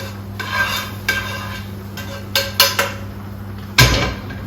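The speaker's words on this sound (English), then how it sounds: "And I'm going to stir that up." A spoon stirs fish and pre-cooked scallop pie filling in a pot, giving a handful of scattered metallic clanks and scrapes against the pot over a steady background hum.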